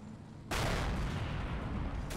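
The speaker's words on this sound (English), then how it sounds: "That's got to be a shell from the Hellcat" A tank shell fired from a Hellcat in a World War II video game battle, a single sudden, loud blast after a quiet half-second, then a heavy rumbling decay.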